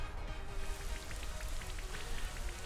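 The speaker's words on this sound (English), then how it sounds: "I will get the Rain Dance up." Steady rain effect from the Rain Dance move in a Pokémon VGC 2020 battle, a continuous wash of falling rain with scattered droplet patter, moderately quiet and unbroken, with no voices over it.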